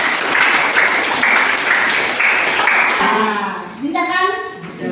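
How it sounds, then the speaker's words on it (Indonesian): Students clapping together in a school classroom, a dense burst of rhythmic hand claps that fades out after about three seconds as children's voices rise. "Tepuk tangan."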